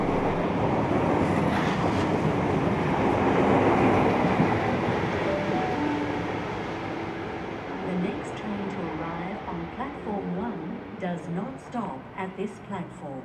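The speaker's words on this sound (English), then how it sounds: "XP 2007 now leads the way to Sydenham." An XP 2007 City of Albury passenger train passes at a heritage rail expo in New South Wales, heading to Sydenham, with a loud rolling rumble that fades as people talk in the background.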